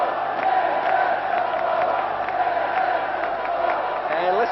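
Czechoslovakian crowd roaring at an ice hockey friendship game against the USSR during a power play, a dense, continuous arena din with cheers and whoops swelling throughout.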